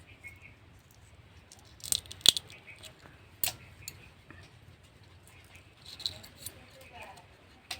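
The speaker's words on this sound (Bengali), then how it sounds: "এইভাবে আমি সব ডিমগুলো ছাড়িয়ে নেব।" Boiled country duck eggs are peeled by hand, with sparse, sharp cracks and crinkles of shell breaking away. The clicks come in small clusters over a quiet background.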